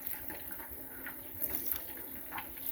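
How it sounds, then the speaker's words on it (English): Tap water runs from a sink faucet into a cooking pot, a soft, steady, fairly faint splashing stream heard alone. "just add this amount of water to it"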